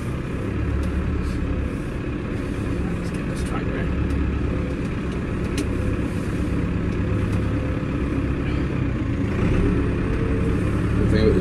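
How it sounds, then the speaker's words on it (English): A 6265 tractor engine runs at a steady, loud, low rumble as the tractor drives into a shed, a continuous drone close by that swells slightly toward the end. "Let's get this tractor in."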